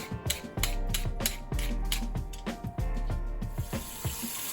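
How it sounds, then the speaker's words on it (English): Peeled sweet potatoes rinsed under a running kitchen tap, water splashing steadily while the tubers knock and thump repeatedly against the sink. "Then you want to just give them a good rinse to rinse off any of the dirt"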